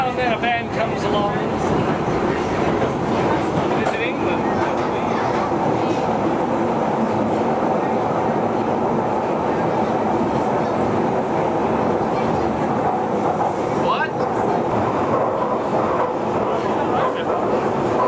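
London Underground tube train rumbling steadily for the whole stretch, a dense close roar with faint rail clatter and squeals, heard from onboard with a few voices faintly underneath.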